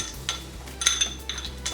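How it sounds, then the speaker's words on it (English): Ice cubes clink and rattle into a cocktail glass being refilled with lime and mint, a handful of light, bright taps and knocks at close range, quiet overall. "we're gonna throw a little bit more ice"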